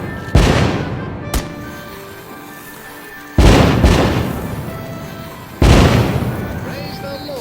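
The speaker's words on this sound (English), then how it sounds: "Light up those fireworks" Three loud, widely spaced firework blasts go off in the VR game The American Dream, each a sharp boom trailing into a long decaying rumble, with a smaller crack between the first two.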